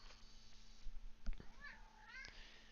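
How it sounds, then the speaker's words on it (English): A cat meows faintly indoors, giving a couple of soft rising and falling cries over a quiet background hum. "A cat showed up,"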